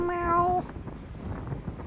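A cat gives one clear, drawn-out meow at the start, loud and close, followed by quieter background noise and faint talk.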